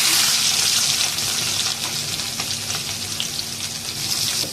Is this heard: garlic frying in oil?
yes